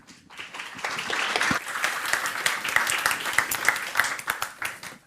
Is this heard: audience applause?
yes